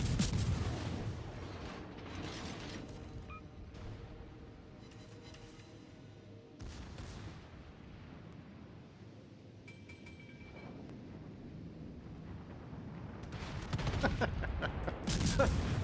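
Deep rumbling naval gunfire in a video game, with salvos aimed at a battleship, rolling in as broad booms at the start and again near the end, a low roar sustained in between.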